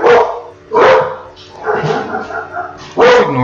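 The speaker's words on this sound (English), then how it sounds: "Ignore the dogs" Cartoonish dogs bark repeatedly in the video game Nom Nom Galaxy, several loud yips and woofs in uneven bursts, close and prominent, with voice-like game sounds mixed in.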